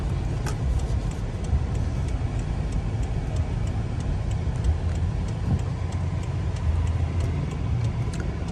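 A 2011 Rolls-Royce Ghost with a 6.6-litre 563 hp V12 pulls onto a freeway, heard from inside as a steady, smooth low engine and road rumble that holds even throughout, with faint ticking in the background.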